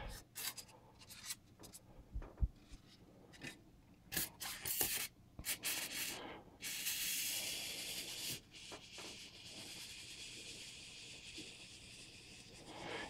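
Foam is fed through a hot wire foam cutter to slice it into thin quarter-inch blocks, giving soft, close rubbing and scraping hiss in uneven strokes that steady into a continuous drag.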